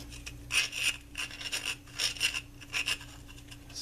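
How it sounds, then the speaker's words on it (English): A hand file rasps through a drilled hole in a box mod enclosure for a DNA 75 build, in quiet, rhythmic back-and-forth strokes, about eight of them in quick succession, with no speech. "So I'm just running the file through here."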